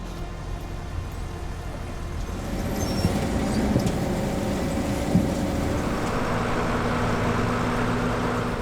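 An older tractor, a 411 Vario, works through harvest transport, a steady low diesel drone that swells slightly louder midway and holds, continuous and close.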